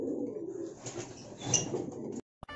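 Soft, low pigeon cooing murmurs steadily for about two seconds, close by, then cuts off abruptly into silence with a brief click.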